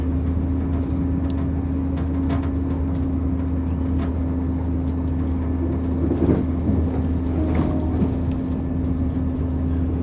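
A passenger train on a Gascoigne to Sherburn South junction curve rumbles along in a steady, loud drone from inside, with a constant hum and occasional clicks and rattles as it slows.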